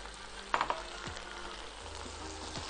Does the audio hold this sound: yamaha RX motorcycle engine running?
no